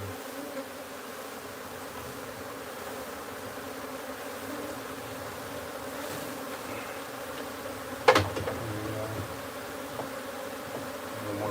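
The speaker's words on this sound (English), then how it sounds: "let's try and clear out some of these bees here" Wild bees buzz in a steady, dense drone while their hive is transferred into a new home, with one sharp knock partway through.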